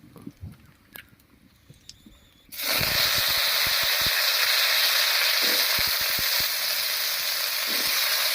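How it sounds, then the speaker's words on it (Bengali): Quiet small clicks and taps give way to a sudden loud, steady hiss as cut potatoes drop into a wok of hot mustard oil over a cumin, dried chilli and bay leaf tempering, with faint stirring knocks underneath. "ফোড়নটা ভাজা হয়ে গেছে এর উপরে দেবো কেটে রাখা আলু"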